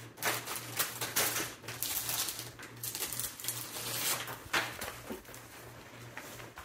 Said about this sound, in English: I need to re-sleeve this real quick, so I'll do that while I talk about it.